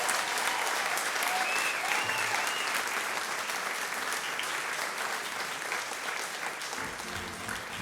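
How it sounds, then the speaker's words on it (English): Standing ovation applause effect, a loud, dense wash of many hands clapping continuously with faint crowd murmur and whistle-like tones, fading slightly near the end. "I'm going to give this a standing ovation."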